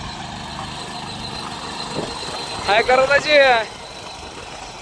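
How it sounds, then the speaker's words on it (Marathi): A small tractor pulling a rotavator tills a cotton field, its steady low engine drone running throughout while people talk briefly over it. "हे पा कपाशीमध्ये व्यवस्थित मस्त मी पाळी घालतंय ट्रॅक्टर"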